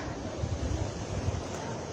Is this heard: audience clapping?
no